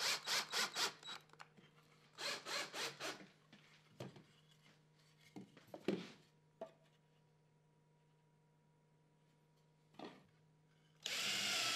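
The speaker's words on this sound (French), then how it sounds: "Forez 3 trous." A power drill bores into a wooden slat in short repeated whirring bursts, several quick runs in succession followed by quieter gaps and a final longer burst.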